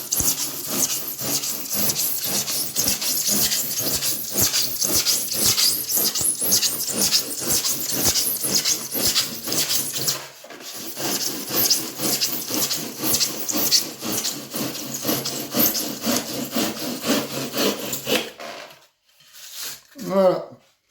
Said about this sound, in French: faut pas forcer sur la lame parce que sinon ça arrache des morceaux et c'est pas bon